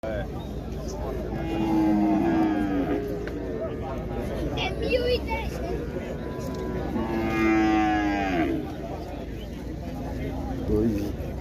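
Cattle at a livestock fair in Buíque, Pernambuco, low out two drawn-out moos a few seconds apart, moderately near, while someone talks over the busy crowd background.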